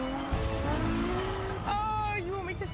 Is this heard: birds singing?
no